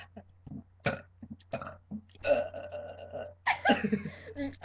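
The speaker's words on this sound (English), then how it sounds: "You've been burping for 4 minutes." A series of loud, close burps, several short ones followed by two longer drawn-out belches, made without any soda.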